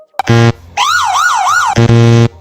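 A wailing emergency siren used as an edit sound effect, three loud rising-and-falling sweeps sandwiched between two short, harsh electronic buzzer tones, all close and clean with no talk.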